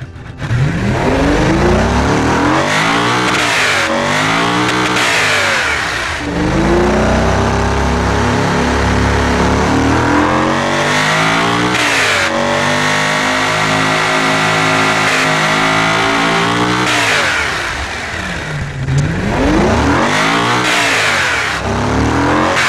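An LS12 supercar engine built in Automation and driven in BeamNG.Drive revs loudly and repeatedly, climbing through the range, dropping back and surging again in several long sweeps, close and with no talk.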